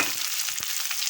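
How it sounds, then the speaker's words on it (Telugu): Sliced onions sizzle loudly in hot oil with dried red chillies, garlic and tempering spices, a dense, continuous close-up crackle with no voices. "2 ఉల్లిపాయలు కట్ చేసి వేసాను."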